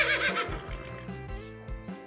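A horse neighs in a loud, close whinny at the start, with further rising and falling calls and harmonic cries over about two seconds against a musical backing.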